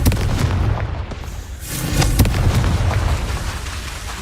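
The Confringo spell from Hogwarts Legacy goes off as a loud, booming fiery explosion with a deep rumbling tail, followed by a second heavy blast and continued rumble.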